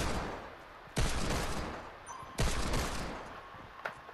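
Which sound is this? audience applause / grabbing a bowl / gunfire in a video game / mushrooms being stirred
gunfire in a video game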